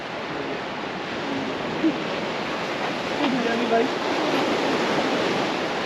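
Sea waves at Diu roar in a continuous wash of surf, with a voice speaking briefly over it partway through.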